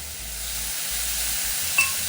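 Udon noodles stir-fry in a wok with black pepper sauce, sugar, salt, soy sauce and oyster sauce, giving a steady close sizzle with a soft rhythmic scraping of the stirring and a small clink near the end.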